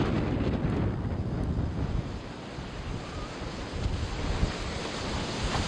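Strong wind on the Greek island of Naxos roars and buffets the microphone continuously, with a broad rushing noise like surf underneath and no one speaking.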